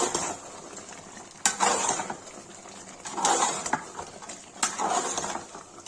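Mutton curry being stirred with a spoon in a metal cooking pot, giving three scraping, sizzling strokes at a steady pace over a continuous low hiss, close and moderately loud, with no talking.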